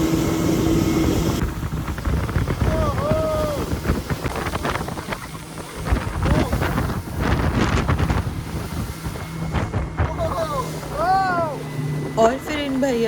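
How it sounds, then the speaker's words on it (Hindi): Strong wind roars across the microphone aboard a fast-moving speedboat on open water, a constant heavy rush with water noise beneath, while people talk and call out over it throughout. "यहाँ हवा इतनी तेज़ थी और फिर स्पीड बोट की भी अच्छी खासी स्पीड थी"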